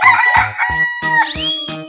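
A cartoon rooster crows cock-a-doodle-doo in an animal-sound sequence, loud and close, with several clucking bursts in a row followed by a drawn-out crow, heard alone with no talking.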